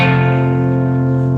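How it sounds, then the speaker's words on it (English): A sustained electric guitar chord rings out loudly through an MXR Classic 108 Fuzz pedal in a clean, smooth tone, holding steady for the whole moment with no voices. "The first pedal I'm going into is a MXR Classic 108 Fuzz"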